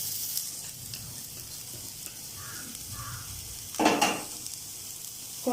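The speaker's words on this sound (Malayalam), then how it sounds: "ഞാനിനി ക്യാബേജ് ചട്ടിയിലോട്ട് ഇടാൻ പോവാം." Cabbage pieces hitting a hot pan for a cube fried masala: a low background hiss, then a sudden loud burst of sizzling as the cabbage goes in, fading back down.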